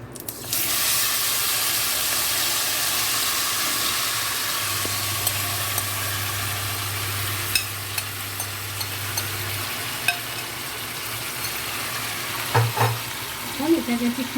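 Marinated boal fish sizzles and spits in hot oil in a wok for a Bengali bhapa dish, a steady close frying hiss with occasional stirring clatter and no talk over it.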